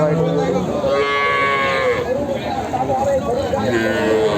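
A dairy cow moos several times, long low calls rising over the busy chatter and murmur of the crowded Chandaikona cattle market in Sirajganj, Bangladesh.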